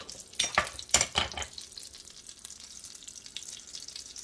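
Chopped celery is added to melting butter in a pan, bringing a burst of crackling and scraping for about a second before it settles into a soft, steady sizzle close by.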